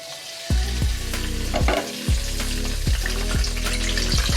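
Whole bay leaves, cardamom pods and cinnamon sizzle in hot refined oil, a close, steady crackle broken by several sharp clanks and scrapes of a spoon stirring the pan.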